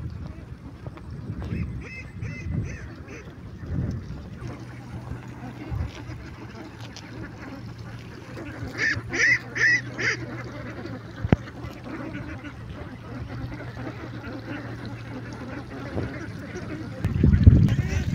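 A small flock of ducks quacks in short bursts near their shelter in a rural yard, with soft rustling and a low background hum between the calls.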